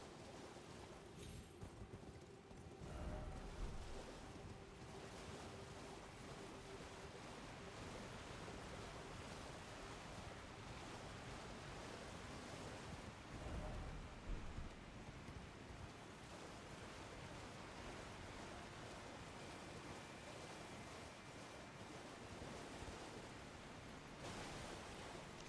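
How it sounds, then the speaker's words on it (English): Rushing waterfall in the video game Elden Ring, a faint, steady broadband roar of falling water that continues evenly throughout with no talking. "It would appear that there is a way up the waterfall."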